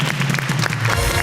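A talk show studio audience breaks into loud, dense applause for a guest, a short sustained burst of clapping with a low hum underneath.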